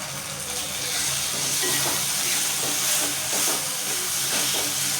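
Salted spring onions sautéing in a pan give a loud, continuous hiss and sizzle close by, with faint stirring scrapes under it and no voices.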